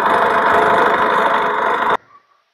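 A diesel 2016 Honda City VX idles with a steady, close, loud engine drone, which stops abruptly at about two seconds, leaving near silence.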